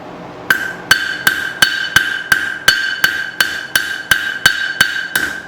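Hammer forging a knife from an old steel file, about fourteen sharp ringing metallic blows at a steady, even rhythm, close and loud with no talk.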